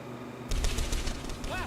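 Rapid automatic gunfire erupts in a video game. A dense, loud burst of bullets fires close up after a brief quiet moment and continues to the end.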